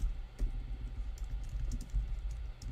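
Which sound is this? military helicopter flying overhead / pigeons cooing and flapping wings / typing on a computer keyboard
typing on a computer keyboard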